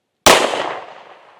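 A single loud pistol shot from a Ruger RXM loaded with defensive ammunition cracks out sharply and alone, then rings away in a long fading tail.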